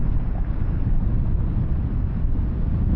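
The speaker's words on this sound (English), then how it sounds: "You see that wind, it's just pushing me. It's really bad today." A steady, loud roar of wind buffets the rider on a 2024 KTM 1390 Super Duke R EVO motorcycle cruising at speed, a constant broadband rush with no pauses and no voices.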